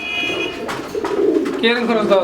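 Fancy pigeons at a market coo softly nearby in low, throaty calls, with someone talking over them.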